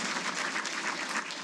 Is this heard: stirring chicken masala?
no